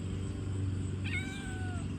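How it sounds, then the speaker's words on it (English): A single drawn-out meow from a small cat rises and then slides downward over about a second, fairly faint against a low steady background hum. "Look at the fierce little kitty cat."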